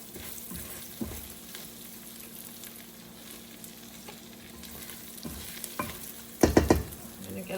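Spatula stirring food in a frying pan, with soft steady sizzling underneath, scattered scrapes and taps against the pan, and a louder cluster of scraping near the end.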